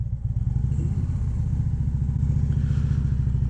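A 2016 Harley-Davidson Street Glide Special idles close and loud in Oklahoma, its V-twin giving a steady, deep, lumpy throb with a rapid, even pulse that holds throughout and has no voices over it.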